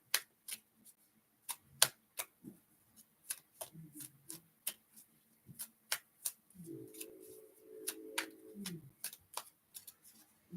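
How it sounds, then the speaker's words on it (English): Tarot cards are shuffled by hand at close range in a run of irregular crisp snaps and flicks, with a longer riffling burst near the end and a soft low voice briefly in between. "I'm just shuffling away."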